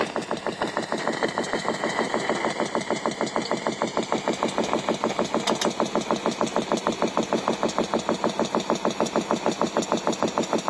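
Tunnel compressor machinery drones steadily with a fast, even mechanical pulse, loud and continuous, with no talking.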